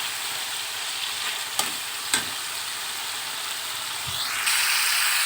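Fish heads fry with spices in a pan, giving a soft, steady sizzle with a few sharp scrapes and clinks of stirring. The sizzle swells near the end.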